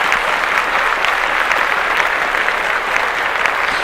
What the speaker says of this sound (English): I'm gonna clap that up.